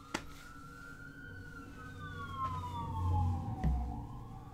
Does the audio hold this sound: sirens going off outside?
yes